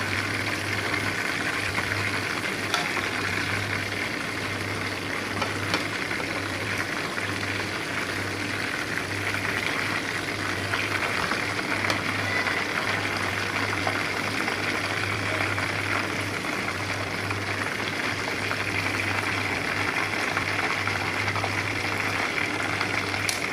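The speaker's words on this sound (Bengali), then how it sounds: "আপুরা, এই যে আমার ভাজা, আমি এটা 5 মিনিট করে ভেজে এটাকে তুলে নেব।" Chicken pieces fry in hot oil for a crispy chicken fry, giving a steady, continuous sizzle and bubbling hiss that holds at an even level throughout, with no talking.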